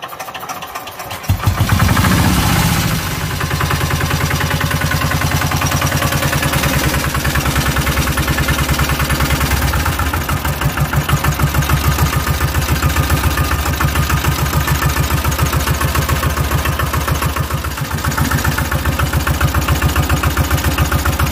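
A small China CD 5 hp engine catches and settles into a steady, loud, close running drone with an even rapid pulse that holds unbroken to the end.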